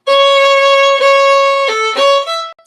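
Fiddle playing the B part of a tune with slurred bowing, a short smooth phrase of several connected notes with gentle pulses of emphasis, close and loud, no talking.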